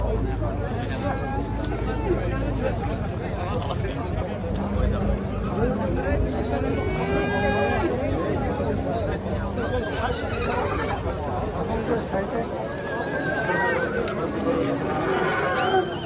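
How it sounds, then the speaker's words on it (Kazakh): Crowded livestock market in Osh, with horses neighing and whinnying again and again over a dense hubbub of voices and animal noise. Occasional hoof clip-clop is mixed in, and the crowd chatter runs steadily throughout. "Сіздер Оштоғы мал базарды көріп отасыздар."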